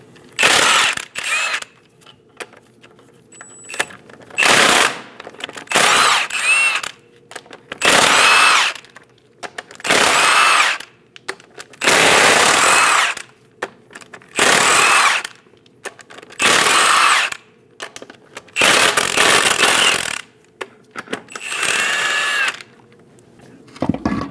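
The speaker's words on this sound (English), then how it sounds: "Using a 22mm socket, remove all 8 lug nuts." A power impact tool with a 22mm socket removes the eight lug nuts from the front wheel of a 2001-2006 Chevrolet Silverado 2500 HD, giving about a dozen loud rattling bursts of a second or two each, separated by short pauses.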